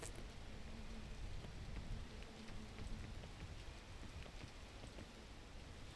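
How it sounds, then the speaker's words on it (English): Rain falls in the video game PEAK as a continuous rushing hiss, with scattered drops tapping on surfaces. It stays at a steady, moderate level for several seconds, with no voices. "Oh, rain again."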